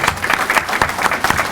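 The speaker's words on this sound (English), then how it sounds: "let's round of applause for Captain Marks" A round of applause at a fire department recruit graduation ceremony, brisk, loud clapping from a gathered crowd with distinct rhythmic hand claps, brief and continuous.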